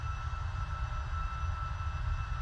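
A steady aircraft engine drone from the Prepar3D flight simulator, a constant low rumble with a sustained mid-range hum and no change in pitch or level throughout, with no talking.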